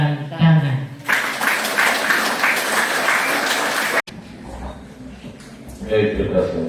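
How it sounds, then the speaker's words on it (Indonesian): Applause for five children at a First Communion celebration, a burst of clapping that fills the middle after a voice speaks, then cuts off abruptly and gives way to quieter room sound and talk. "Mari kita mendukung kelima anak ini dengan tepukan tangan."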